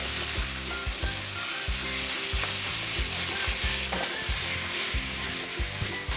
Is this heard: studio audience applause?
no